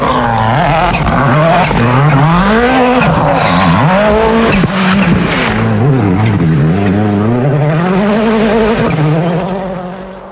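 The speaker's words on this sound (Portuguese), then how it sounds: "vendo o rapaz Ken Block andando de forma um tanto arrojada na terra" A Ford Fiesta rally car drifts sideways on dirt, its engine loud and close, revving and wavering through gear changes for about ten seconds, with tire scrub and no voices.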